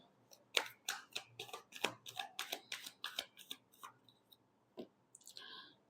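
Tarot cards are shuffled close up in a quick run of about a dozen crisp riffling bursts. A short pause follows, then a brief flick and a soft rustle.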